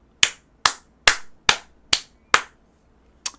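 Seven sharp, separate hand claps ring out in a quiet room during a sales coaching talk, evenly spaced about half a second apart, with a short pause before the last one.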